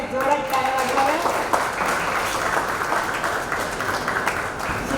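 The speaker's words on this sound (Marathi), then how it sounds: "सगळ्यांनी जोरात टाळ्या वाजवाव्या" At a prize announcement for an essay competition, the audience claps steadily through the whole moment while a voice carries on talking over the applause.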